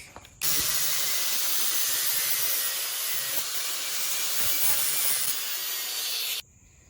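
A cutoff grinder slices through the sole of a supposedly indestructible work shoe, producing a loud, steady, harsh grinding hiss for about six seconds before stopping abruptly.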